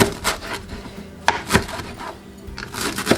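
A knife chops green herb stems for sofrito on a wooden cutting board, a few sharp, separate thuds spaced irregularly over faint kitchen background.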